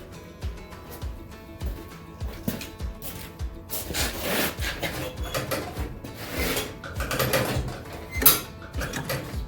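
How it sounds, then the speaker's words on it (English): Friction disc of a snowblower shifted back and forth on its arm to spread grease, with repeated short scraping and rubbing strokes, metallic clicks and knocks, close and moderately loud, growing busier halfway through. "I'm going to go up here and shift it back and forth so those forks will move the discs over the arm and spread that grease"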